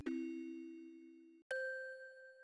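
A Christmas church bell rings alone in two clean strikes, the first a lower tone with a long fading hum, the second a higher, brighter chime that rings on steadily.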